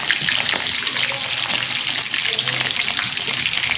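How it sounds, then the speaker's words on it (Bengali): Meat fries in hot oil in a pan with cardamom, clove and pepper, giving a loud, continuous close-up sizzle and crackle that never pauses. "মাংস এগুলোতে ভাজা হবে।"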